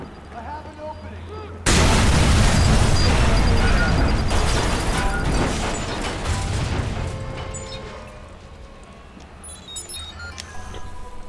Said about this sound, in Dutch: Ik kan gelukkig een explosief maken en dan gooi je meteen naar zijn voetjes